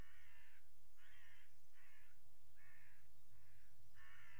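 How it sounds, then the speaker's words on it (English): Crows in the survival game Sir, You Are Being Hunted caw in a run of six harsh calls spaced about half a second apart, fairly distant over a quiet low rumble. "Do these bloody crows die by any chance?"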